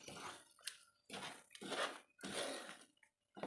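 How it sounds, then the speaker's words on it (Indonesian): Thick soursop jenang being stirred in a pot, with scraping, sloshing strokes in three distinct bursts separated by short pauses, close and fairly quiet. "Kemudian kita aduk terus sampai mengental."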